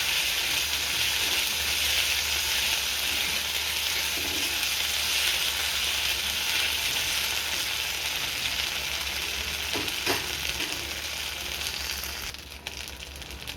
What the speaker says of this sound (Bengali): বাটা মশলাগুলো একটু এভাবেই ভেজে নেব।